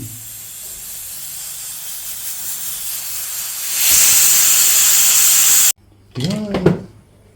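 A pressure cooker on the stove releases a loud, steady hissing whistle of steam while mutton curry cooks, cutting off abruptly before a voice speaks nearby.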